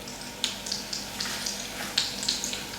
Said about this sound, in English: And you hear the sizzle.